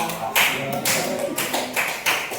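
A brief round of scattered clapping from a small group of students in a classroom, a few seconds of uneven hand claps close by.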